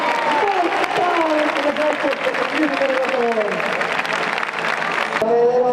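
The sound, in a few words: audience applause at a bull-leaping contest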